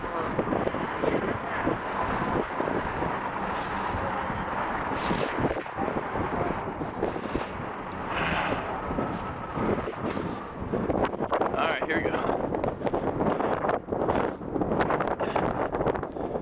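Wind roars into the microphone as constant, heavy buffeting rumble, with a brief spoken phrase near the start.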